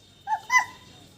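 A small child imitates a dog with two short, yappy barks in quick succession, voiced close and fairly loud against a quiet room.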